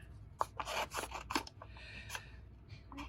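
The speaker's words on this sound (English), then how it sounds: "we're going to grab our scissors and we're just going to fussy cut out this image" Scissors cut around a printed paper image for an embossed orchid birthday card: a quick, close run of crisp snips with light paper rustle between them.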